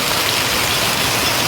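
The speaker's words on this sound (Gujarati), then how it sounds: "વધારે વરસાદ આવે છે." Heavy rain pours down steadily in a village during a downpour, a dense, continuous hiss and patter on surfaces filling the whole moment with no voices.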